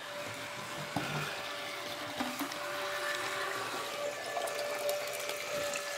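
Water runs steadily over a paintball Dye Rotor loader, washing off dirt left from snow, a continuous close splashing and gushing with no talking.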